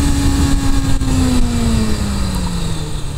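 A motorcycle engine winds down steadily as the bike brakes hard, a loud, close, continuous drone falling in pitch over a few seconds under rushing wind.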